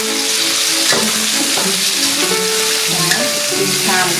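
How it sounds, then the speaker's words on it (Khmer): Raw cleaned shrimp tipped into a hot pan over fragrant garlic burst into a loud, steady sizzle, with clinks and scrapes of stirring over the continuous frying hiss. "អញ្ចឹងនេះខ្ញុំសូមចាក់បង្គាចូល"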